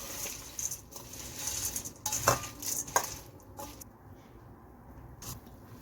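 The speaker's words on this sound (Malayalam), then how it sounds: "ഇനി നമുക്കിത് എല്ലാം കൂടി നന്നായിട്ടൊന്ന് മിക്സ് ചെയ്യാം." A spoon stirs and scrapes through dry bhel puri ingredients dressed with lemon juice in a bowl, making close, uneven clinks and rustling patters that fade after a few seconds.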